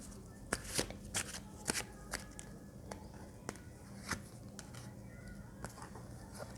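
Tarot cards are shuffled by hand in quiet, uneven riffles and soft flicks, close and fairly faint, with no talking.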